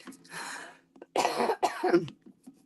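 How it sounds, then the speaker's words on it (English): Several harsh coughs in quick succession, close and fairly loud, with a brief pause between bursts. "The cough's nearly gone."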